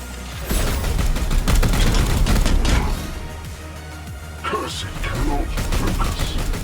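Rapid bursts of gunfire and impacts from a turn-based Warhammer 40K: Chaos Gate – Daemonhunters battle, several dense volleys with crashes under a game soundtrack, loud and close.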